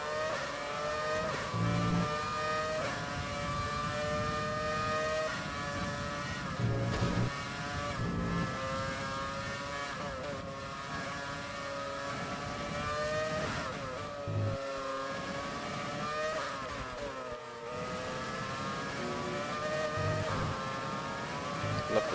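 Williams FW18 Formula 1 car in the F1 2020 video game at Bahrain, a continuous high-revving engine wail rising through the gears with brief dips at each shift, steady and loud with no talk.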